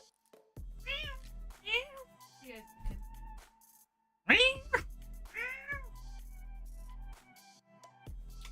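Cats in the Minecraft ATM 9 modpack give several clear, close meows in a row, some high and whiny, with a person talking between and over them.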